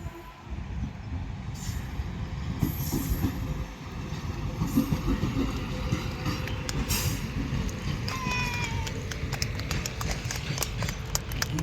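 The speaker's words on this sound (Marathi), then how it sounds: "हे बघा ट्रेन पण मालगाडीच आले" A freight train rolls past nearby, its steady heavy rumble and rhythmic clacking of wheels over rail joints running loud and unbroken throughout, with faint voices underneath.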